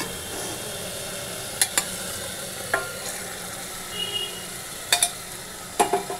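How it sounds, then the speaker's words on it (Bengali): Lightly boiled mung dal goes into a hot pot of fried ingredients for khichuri: a steady close sizzle broken by several sharp scraping stirs of a spoon against the pot. "এবার আমি এটাতে ডালটা দিয়ে দিলাম।"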